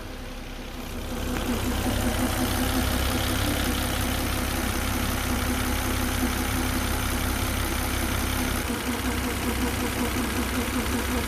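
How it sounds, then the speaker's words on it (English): A 2005 Volvo XC90 2.9L turbo engine, before an engine flush, idles steadily up close, a low rumble with a faint rhythmic ticking throughout, starting after a brief quiet moment and continuing without talk. "This is what it sounds like before."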